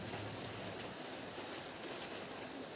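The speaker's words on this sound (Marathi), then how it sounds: "अशा पद्धतीने आमच्याकडे पाऊस पडलेला आहे." Heavy rain falls steadily during a flood, a dense, unbroken hiss of water that stays at an even level throughout with no voices.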